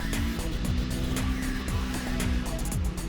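A small go-buggy engine runs close by, a steady buzzing drone whose pitch repeatedly sweeps up and drops as the throttle rises and eases off, with no voices over it.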